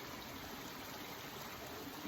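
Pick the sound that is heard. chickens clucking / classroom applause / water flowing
water flowing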